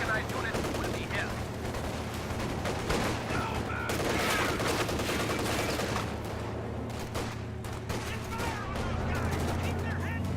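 Enemy gunfire rattles in a video game, dense bursts of machine-gun and rifle shots under a constant low engine drone, fairly close and busy throughout, with voices talking beneath it.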